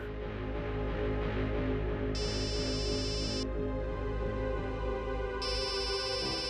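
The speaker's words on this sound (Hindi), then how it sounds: "दया का फोन?" An electronic phone ringtone trills in two bursts, separated by a pause, over a loud dramatic music bed in a TV crime drama scene; no voices are heard.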